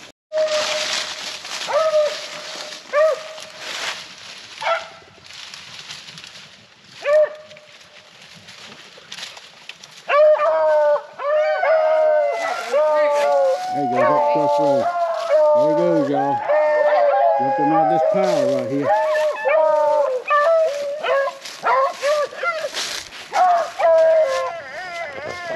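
Beagle hounds bay and squall while hunting rabbits in a brush pile, a pack of yelping, howling voices rising and overlapping steadily after a quieter start with a man calling to them.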